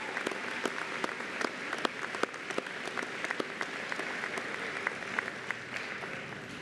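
Audience applause for nursing students in a scholars program at a 2019 pinning ceremony, steady dense clapping from a large crowd throughout, with no voices over it.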